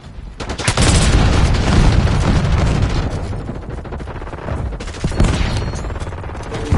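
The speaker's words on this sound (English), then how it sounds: "Oi, enemy grenade." Gunfire and explosive blasts from an enemy grenade in Call of Duty Warzone, heavy booming bursts with loud rattling shots, close and intense, repeating in waves.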